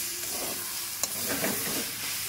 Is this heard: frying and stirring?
yes